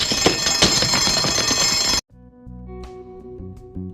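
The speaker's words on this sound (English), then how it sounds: "What's that bell? It's the alarm." An alarm bell rings loudly and continuously in a TV or film scene, a bright metallic clangour that cuts off abruptly, followed by a quieter tonal passage.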